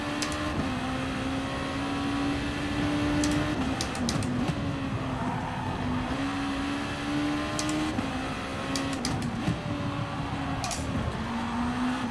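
Race car engine in Gran Turismo Sport on worn tyres: a steady, loud engine drone whose pitch holds, dips and climbs again across shifts, with faint clicks over the top and no talking.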